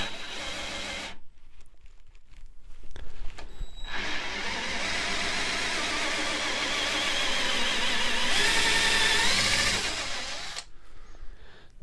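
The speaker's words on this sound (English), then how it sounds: "As I drill this hole" A power drill whines steadily through a wooden chair stretcher for several seconds, rising in pitch briefly near the end before stopping, after a few short bursts at the start.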